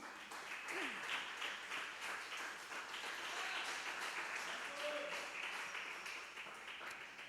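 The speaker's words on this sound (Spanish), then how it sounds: "Denle una ofrenda de palmas al Señor." Church congregation at a devotional service clapping together, a sustained even wash of many hands at moderate distance, with a few faint voices but no clear talk.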